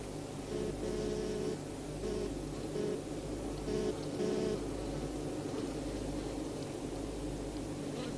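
Worker honey bees buzz steadily inside a hive, a dense close drone with faint higher whines rising and falling over a continuous low hum, no voices.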